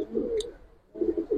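A khoyra-necked pigeon coos in two low, soft bursts separated by a short pause, close and fairly quiet, with a faint higher chirp from another bird between them.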